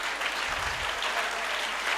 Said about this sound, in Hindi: ताली बजा सकते हैं आप लोग?